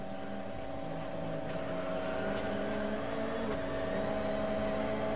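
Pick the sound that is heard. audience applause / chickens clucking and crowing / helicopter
helicopter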